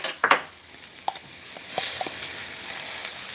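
Minced garlic dropped into a pan of Chinese long bean stir fry, a few clattering utensil taps against the pan followed by a rising soft sizzle, close and alone.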